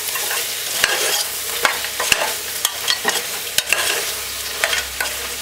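Curry goat being stirred in a pot, with a steady low sizzle and repeated sharp scraping clicks of the spoon against the pot, close and fairly loud.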